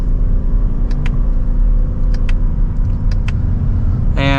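A 2025 Toyota Crown Signia Limited accelerating in sport mode from second gear, steady loud engine and road rumble from inside the cabin, with a few faint clicks and a brief sharper sound at the end.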